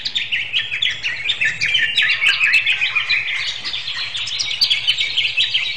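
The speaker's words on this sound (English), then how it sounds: "it's basically creating, for me, the whole idea of a forest ambience with birds" Forest ambience filled with dense, continuous birdsong from a single species: bright, overlapping chirps and tweets repeat steadily throughout over a faint low hum.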